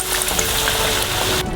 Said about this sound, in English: As soon as it warms up, deep fry the corn dog.